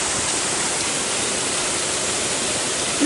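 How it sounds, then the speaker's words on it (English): A small waterfall in damp green woods along a long-distance hiking trail rushes with a constant, close, broadband hiss that holds steady throughout with no voices over it. "Nice little waterfall."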